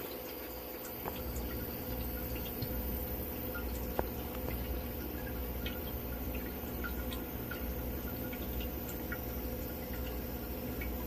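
Water drips and trickles inside an auto-filling bucket of an ultrasonic mushroom tent humidifier, faint scattered drips and small splashes over a steady low hum from the running unit.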